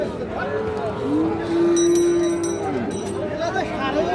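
A Sahiwal bull calf, around five to six months old, gives a long rising-and-falling moo at a busy cattle market, with murmured crowd chatter and other background noise around it.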